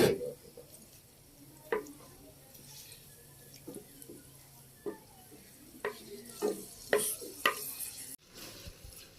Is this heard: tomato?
yes